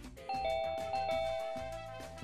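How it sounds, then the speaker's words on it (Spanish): A doorbell rings with a clear two-note ding-dong chime, loud and close, its ringing tones overlapping and slowly fading, with no talking. "Timbre"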